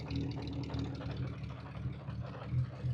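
A 1979 Honda CBX1000Z six-cylinder motorcycle with a 6-into-6 exhaust idles at warm-up revs, a steady low rumbling burble that stays close and even throughout.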